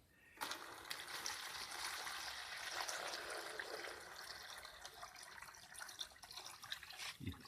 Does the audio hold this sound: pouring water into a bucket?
yes